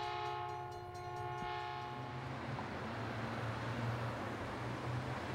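A train rumbles past with a long, steady horn blast sounding over the rolling rail noise, the horn fading partway through as the loud clatter of the cars continues alone.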